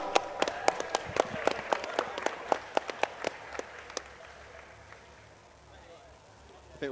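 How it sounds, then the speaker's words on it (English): Scattered hand claps from a small group at a Halo 4 tournament broadcast, thinning out and fading over several seconds, heard in a quiet room. "But first, a big round of applause for Joshua Loco Jesus de Guzman Nino."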